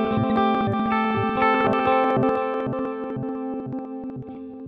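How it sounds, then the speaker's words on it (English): Electric guitar through a Line 6 Helix glitch delay, sustained chords whose echo repeats are chopped into rhythmic slices, loud and continuous with heavy effects processing. "So we can hear these echoed repeats are kind of sliced up"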